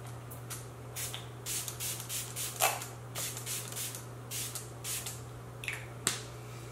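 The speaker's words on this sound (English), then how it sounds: "I'm going to go ahead and spray this as my primer today." Makeup primer setting spray misted onto a face in a quick series of short, close hissing bursts, about a dozen puffs with small clicks from the nozzle over a low steady hum.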